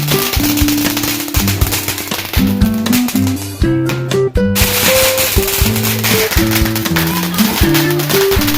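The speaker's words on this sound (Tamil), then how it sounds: "அடுத்தது நம்ம இந்த ட்ரெயின் வெடி வைப்போம்." A train firecracker at a Diwali celebration in 2025, a long rapid string of loud crackling pops running continuously with a short pause midway, with music-like tones underneath.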